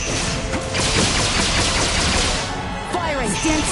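Rapid, dense bursts of gunfire from the video game Star Ocean: The Divine Force, loud and continuous, with brief game chatter and a few sharp impacts near the end.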